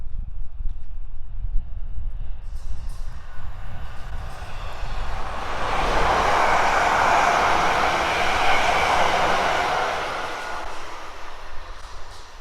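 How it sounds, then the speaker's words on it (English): Passenger train on the South Western Main Line passing Winchfield station, its broadband rumble building from about six seconds and fading, with constant wind noise throughout. "First train of the day."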